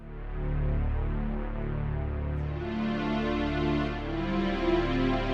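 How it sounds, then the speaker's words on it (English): A warm, sustained pad on a Korg KingKORG NEO synthesizer holds soft layered chords, swelling gently with a slow shift in tone partway through, no voices present. "Classic kind of pad sound."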